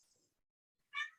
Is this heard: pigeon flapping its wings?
no